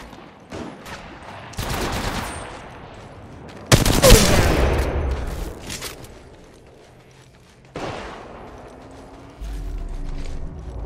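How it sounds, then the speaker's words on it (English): Gunfire in a combat video game, with loud bursts of shots near the start, around the middle and late on, separated by quieter stretches of mechanical clatter and game effects. "Shots fired at me."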